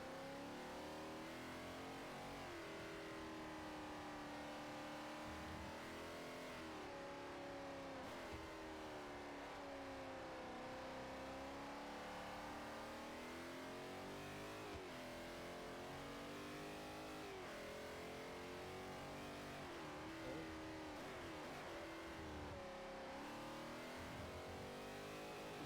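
A race car engine in Forza Motorsport 4 revs loudly and continuously, its pitch climbing and dropping through repeated gear changes for the whole stretch, with no talking over it.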